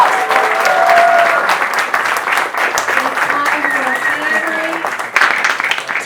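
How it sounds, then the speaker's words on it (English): An audience gives a loud round of applause at a science-and-beer evening talk on Einstein's universe, a dense, close burst of clapping held for several seconds with some cheering mixed in. "Can we get a round of applause?"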